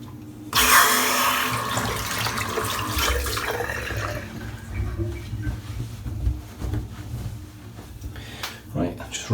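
A shaving brush is rinsed under a running tap, a loud gush of water starting abruptly and continuing at a steady splashing level, with someone talking over it.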